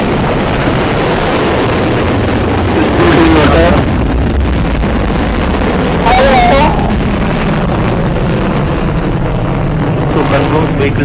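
Agni-V ballistic missile launch roar, a loud continuous rumbling blast with broadband wind-like noise that swells in bursts around the middle and holds steady throughout, with no voices.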